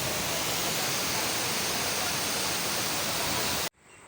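A loud, constant roar of falling water from a waterfall on the Vashishti river fills the air, steady and dense, then cuts off abruptly near the end.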